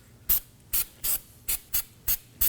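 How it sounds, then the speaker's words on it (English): Never Seize anti-seize compound is sprayed onto the wheel hub of a 2017-2024 Nissan Armada during a front wheel bearing and hub replacement, in seven short, sharp hissing bursts at close range with no talking. "Now we can go ahead and spray some Never Seize on the hub."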